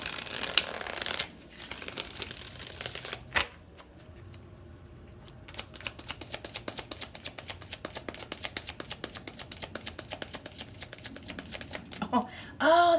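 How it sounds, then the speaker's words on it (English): Tarot cards are shuffled by hand in a quiet room during a card reading: a brief shuffle early on, then a long stretch of rapid, crisp, close-up riffling clicks that ends with a soft knock. "Do one more shuffle."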